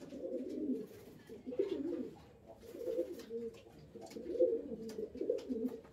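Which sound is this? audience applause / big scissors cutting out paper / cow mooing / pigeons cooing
pigeons cooing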